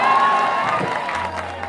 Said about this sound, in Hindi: एक जोरदार ताली से इनका स्वागत करना चाहिए आप सबको